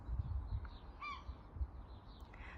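A seagull calls once in a sunny spring garden, a single short harsh cry at middle distance over low outdoor rumble and breeze.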